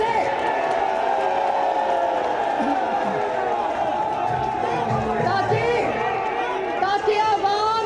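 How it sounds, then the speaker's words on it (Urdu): A large crowd at a political rally in Sheikhupura chants slogans in a dense, continuous roar of many voices, loud and steady throughout. "میرا بڑا دل کرتا ہے کہ یہ نعرے جو آپ لگا رہے ہیں یہ ٹی وی کے تھرو 22 کروڑ عوام سنیں"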